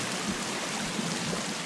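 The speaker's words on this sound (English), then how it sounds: "Having a fresh waterfall bath" A waterfall in the Sons Of The Forest video game, heard as a steady close rush of splashing water with no breaks or talking.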